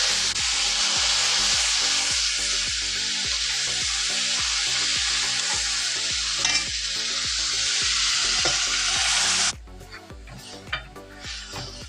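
Kumbalanga (ash gourd) pulinkari, a Malayalam tamarind curry, poured into a hot pan of fried onion, garlic and curry leaves, giving a loud steady sizzle with stirring scrapes that cuts off sharply near the end, leaving quieter clinks.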